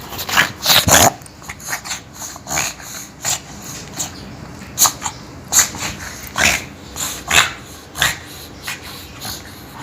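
A pug dog growls and snuffles while playing with a TV remote, with repeated short bursts of growling and rubbing, chewing sounds close by, no talk.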